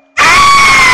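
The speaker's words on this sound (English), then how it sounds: "just scream really loud, really high pitched" A wrestling commentator lets out a sustained, loud, high-pitched scream that starts abruptly and holds steady at full volume.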